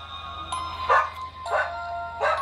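A dog in the Poppy Prison Horror Escape video game gives three evenly spaced, high yappy barks, loud and close, over a faint steady electronic hum, with no voices.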